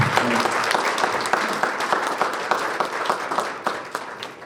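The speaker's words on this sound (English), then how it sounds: "can we get a round of applause for Danny for doing this?" A business-club audience applauds speaker Danny, a full, loud round of clapping that starts strong and slowly thins out over a few seconds.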